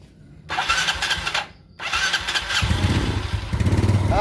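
Close up, an electric starter cranks a motorcycle engine in two short bursts, then the engine catches and runs with a steady, throbbing idle.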